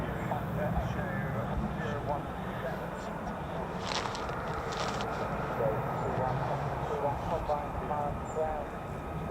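An F-35 Lightning stealth fighter taxiing at an airbase: a steady, distant jet rumble with a faint whine that runs under people talking nearby.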